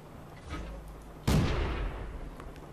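A tank cannon booms once in World of Tanks, a sharp loud blast with a rumbling decay, following a fainter distant shot and under low background game noise.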